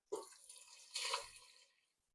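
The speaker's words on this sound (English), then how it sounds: "Go in with your broth" Broth poured into a pot of French onion soup with cooked-in tomato paste, a close liquid splash and gush in two brief surges that fade within about two seconds.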